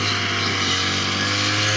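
A small engine on a grass cutter runs at a steady, loud drone throughout, with no breaks and no talking over it.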